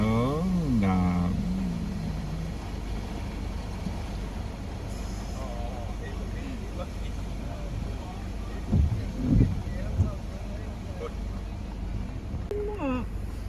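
A Toyota car drives through raging flood water roughly 15 mph deep in Fagaima, a faint rushing wash under wind buffeting the microphone, with a swell of splashing near the end while someone talks over it.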